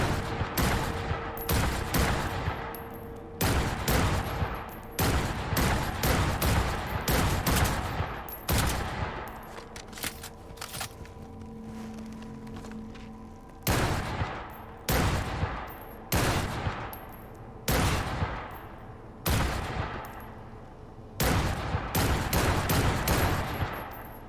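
Assault rifle fire in Cyberpunk 2077, loud close bursts of rapid shots coming in repeated volleys separated by short pauses, continuing over a long stretch with a faint tonal game sound during one lull.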